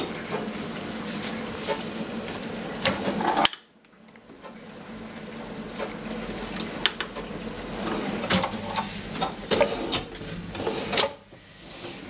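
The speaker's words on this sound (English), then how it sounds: "you can hear the dishwasher" A dishwasher runs nearby in a small studio apartment kitchen, with rattling, clinking mechanical clatter, briefly cutting out before the churning noise resumes.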